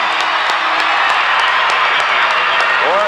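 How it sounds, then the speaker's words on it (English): A crowd at a 1990 Pella Christian versus Western Christian high school basketball semifinal cheers loudly and continuously, with claps and shouts throughout and a commentator talking over it. "Boy, the crowd going crazy now."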